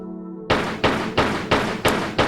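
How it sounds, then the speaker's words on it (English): Six sharp, evenly spaced pistol shots fired at an enemy in Tomb Raider 3 in the RX Tech Mines, loud and close, starting after a brief low hum with no talking. "I'm going to use my pistols to take care of."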